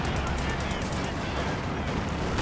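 Rapid gunfire in a competitive video game match, a fast burst of dense, loud shots that fills the whole moment, with a caster's voice talking over the top.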